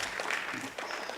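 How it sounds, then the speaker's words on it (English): Applause from a law school conference audience, a brief, even wash of many hands clapping at moderate volume with a faint crowd murmur beneath it. "Let us clap for her."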